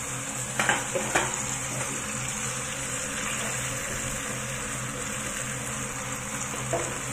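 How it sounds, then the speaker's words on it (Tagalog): Asparagus, carrots, garlic and lotus fry steadily in a pan with a constant sizzle under a few light stirring knocks and clinks of a utensil. "So, i-fry lang natin yan hanggang sa maluto yung asparagus"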